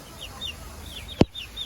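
Chickens at a village house cluck and chirp softly in short, repeated calls, with one sharp thump partway through, close by over a faint background hum.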